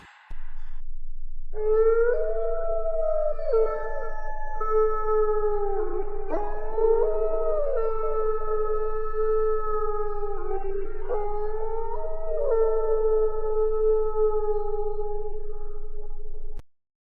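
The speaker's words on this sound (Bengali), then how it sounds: "দূর থেকে ভেসে আসছে শিয়ালের ডাক।" A jackal's long, drawn-out howl with wavering pitch, sustained almost continuously and sounding distant, with no voices present.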